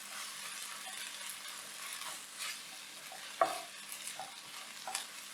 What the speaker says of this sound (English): add our tomatoes to our onions. Keep the fire on high and give it a good mix.